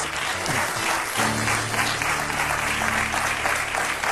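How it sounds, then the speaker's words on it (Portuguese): A studio audience on a Portuguese daytime television talk show bursts into steady, dense applause that carries on without a break, with faint tonal music underneath. "Um aplauso para os 3."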